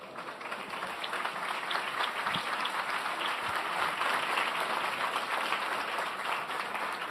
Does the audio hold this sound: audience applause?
yes